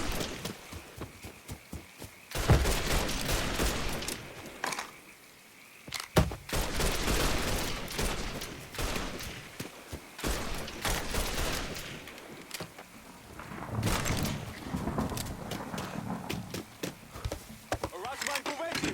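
Gunfire in the action video game Mafia 3, with bursts of rapid shots and dense volleys that recur across the span, loud and close, mixed with shouted character voices and footsteps.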